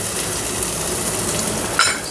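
Chopped onion fries in hot oil in a home kitchen pan, giving a steady, loud, even hiss with a faint clink near the end.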